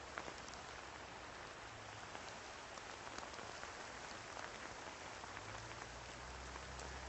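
Steady rain falls continuously in Marysville, a dense even hiss of drops on surfaces with faint patter, no voices, moderately loud and unchanging throughout.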